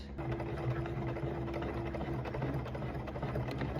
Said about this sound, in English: I began sewing